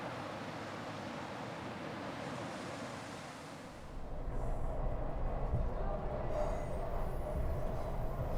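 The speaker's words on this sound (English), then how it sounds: "This one's really more of a subway kind of sound" A recorded subway train gives a steady rushing rumble that turns into a deeper, louder roar about halfway through, continuous and enveloping.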